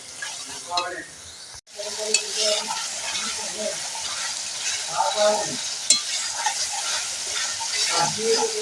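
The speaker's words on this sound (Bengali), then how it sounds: "মশলাটাও ভালো করে ভেজে নেব আদা বাটা তো এইভাবে আমি ভালো করে একটু" Spice paste with cumin and ginger paste fries in a pan for a snail and pumpkin greens dish, a steady close sizzle broken by scraping stirs and a few clinks, with brief murmured speech.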